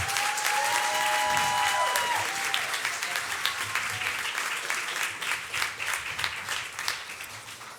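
Audience clapping for a newly elected city council at an inauguration ceremony, a moderately distant crowd applauding steadily with a brief whistle early on, gradually thinning toward the end.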